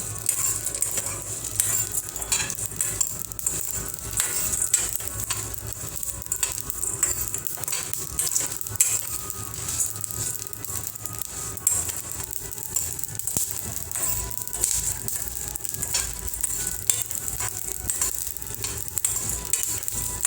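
Chicken angara roasting in a pan over a slow gas flame, a steady soft sizzle and crackle with occasional light stirring clinks, close and continuous with no voices.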